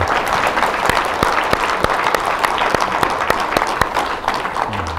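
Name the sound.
audience applause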